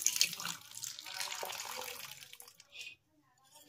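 Water runs from a tap into a small bowl holding a couple of spoonfuls of wheat flour, a splashing trickle lasting a couple of seconds before cutting off, with a short drip or splash afterward.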